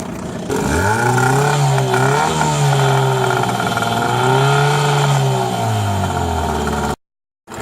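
A repaired outboard motor runs loudly and close, its engine revving up and easing back in smooth swells for several seconds before cutting off abruptly.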